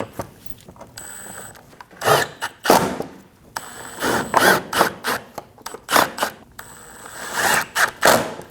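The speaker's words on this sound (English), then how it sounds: "Go down the side, installing all of the screws." Screws being fitted along the side of the engine undertray on a 2012-2022 Volkswagen Passat 2.5L: a string of close clunks, rattles and ratcheting bursts in uneven clusters, with no talking.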